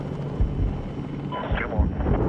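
A missile fires from an attack helicopter in the Medal of Honor (2010) PC game, a short whooshing launch rising over the steady loud rotor drone, with voice radio chatter around it.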